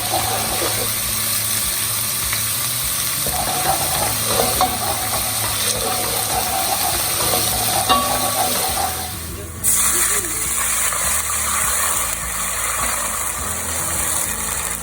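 Water splashed into garlic sizzling in a pan while making dhaba-style fried daal mash, giving steady frying hiss and stirring clatter that jumps into a louder, brighter burst of steam partway through.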